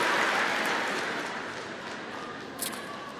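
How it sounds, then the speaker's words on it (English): Audience at an Alabama A&M University fall commencement applauding armed forces members, a dense broad wash of clapping that starts loud and slowly fades, with a brief sharp knock near the end. "Please give them a warm round of applause"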